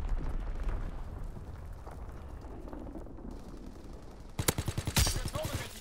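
Fritz X bombs strike in Call of Duty WWII, a rumbling battlefield bed that breaks into a rapid string of sharp, loud blasts and bursts near the end.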